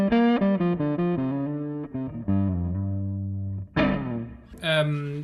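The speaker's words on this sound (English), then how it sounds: "it turns the amp on, the distortion, like a distortion pedal, and an EQ after it" An electric guitar played through the distortion of the Bitwig Studio Amp device rings out in sustained, gritty chords and notes that shift pitch in steps and fade, with brighter strummed bursts near the end.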